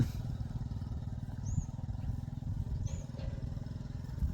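A motorcycle rides steadily along with a close, constant low engine drone and a throbbing exhaust rhythm. Faint chirps come through above it now and then.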